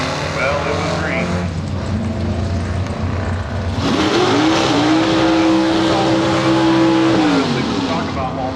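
Drag race cars launch down the Woodburn Dragstrip at a fall classic event with a loud roaring engine that swells and rises in pitch, then holds a sustained whine, while a voice talks underneath.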